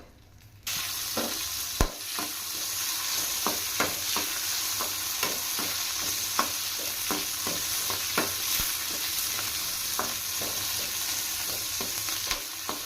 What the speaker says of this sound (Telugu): చూడండి, పచ్చిమిర్చి ఈ విధంగా ఫ్రై అయితే సరిపోద్ది